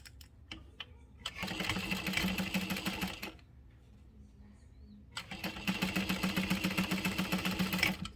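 A domestic sewing machine stitches a quarter-inch seam on fabric in two runs of fast, even mechanical chatter, separated by a few seconds of quiet hum while the work is repositioned.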